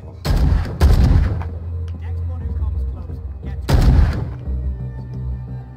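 Gunshots from a gun in the Call of Cthulhu video game, two loud close bursts near the start and another shot later, each ringing out over a low droning background.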